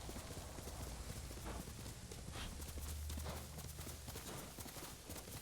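A horse's hooves clip-clopping in the video game Ghost of Tsushima: a quiet, steady run of hoofbeats over continuous ambient background, with no clear talking.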